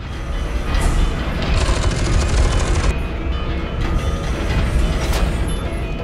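Gunfire and explosions in the video game FEAR 2, a loud dense barrage of rapid shots and booming blasts, continuous and close, with no talk.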